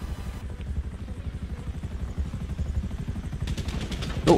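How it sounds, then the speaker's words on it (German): A helicopter in GTA Online closes in with steady low rotor thumping, joined near the end by sharp clattering bursts that sound like gunfire. "Der Heli kommt."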